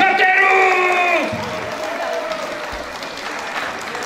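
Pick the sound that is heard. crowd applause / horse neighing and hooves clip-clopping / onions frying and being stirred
crowd applause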